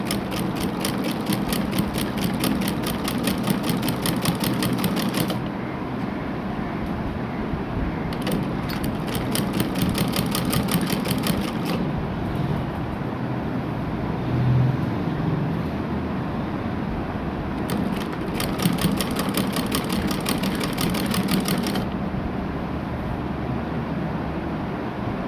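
A sewing machine stitching a shalwar runs in close, rapid bursts of fast mechanical clatter lasting several seconds each. Quieter pauses with a low background hum fall between the bursts.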